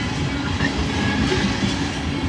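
A Norfolk Southern freight train with many tank cars rolls past, a steady loud rumble of wheels on rail with faint metallic brake squeal threading through.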